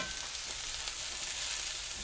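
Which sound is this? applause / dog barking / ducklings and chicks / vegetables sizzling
vegetables sizzling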